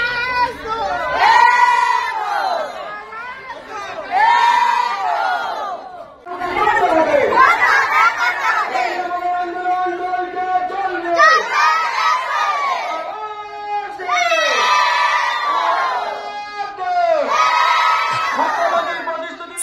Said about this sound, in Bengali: শত শত রন্ধন কর্মী মিছিল করে প্রাথমিক শিক্ষাধিকারিকের অফিসের সামনে পৌঁছে স্লোগানে উত্তাল করে তোলেন